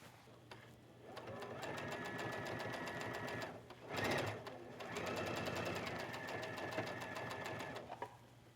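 A sewing machine stitches a gathered ruffle straight across the top of a scarf or wrap, running steadily for several seconds, pausing briefly, then running again at close range with no talk.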